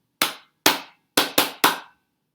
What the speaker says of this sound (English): when you hear the teacher clapping her hands or his hands in class, make sure to repeat